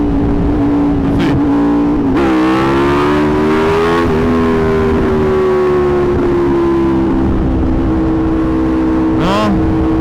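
A 2020 Aprilia RSV4 1100 Factory motorcycle drones loudly and steadily during wheelie practice, engine pitch rising sharply around two seconds, then holding and easing down, with a brief higher rev near the end.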